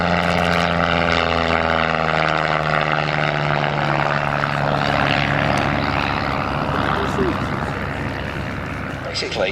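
A Piper L4 light aircraft with a Continental O-200 engine drones steadily at close range, its propeller hum loud and continuous with a slight drift in pitch, while someone talks over it.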